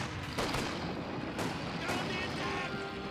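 Mortar rounds slam into recovery sappers in Company of Heroes 2, with several sharp impact cracks spaced a second or so apart over a dense, noisy battlefield din.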